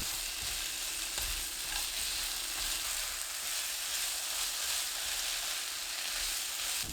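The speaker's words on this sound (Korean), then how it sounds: "식용유 1큰술, 들기름 1큰술 넣고 섞어주세요. 중불로 5분에서 6분 볶아줍니다." Potatoes fry in a pan with cooking oil and perilla oil over medium heat, giving a steady, even sizzle throughout with a few low knocks of stirring, no voices.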